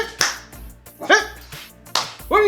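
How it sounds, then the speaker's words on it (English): Penny the dog lets out several sharp barks in close succession at close range, loud and bright, with short pauses between them and no talking alongside. "Can't film when Penny's barking, right?"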